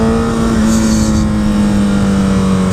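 A 2013 Honda CBR 1000RR motorcycle engine accelerates, a loud close steady drone with a smoothly shifting pitch under heavy wind rush.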